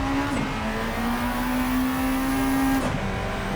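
Honda EF Civic Si in Gran Turismo 7 on racing suspension, its engine holding a steady high drone as the wheels spin, with a brief pitch drop near the end, loud and continuous with no talk.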